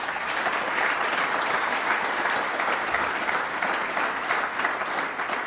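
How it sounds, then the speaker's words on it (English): Even, sustained applause fills a hall at a Toronto Region Board of Trade event, many hands clapping at a steady, moderate level with no voices on top. "So give them a big round of applause."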